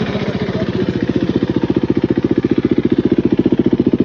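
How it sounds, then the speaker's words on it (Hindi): A 2016 KTM RC390 BS3 motorcycle idles close by, its exhaust giving a steady, rapid, even thumping pulse that stays loud and regular throughout, with no voices. "एग्जॉस्ट का साउंड है"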